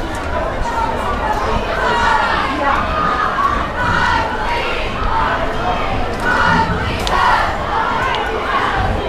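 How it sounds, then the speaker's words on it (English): A large football stadium crowd cheers and shouts continuously at a lopsided high school game, a dense loud roar with overlapping voices and rising whoops throughout. "Crowd's definitely really happy about it."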